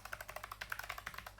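Quick, close clicking of fingers typing on a computer keyboard, with irregular rapid keystrokes in a steady burst and no talking.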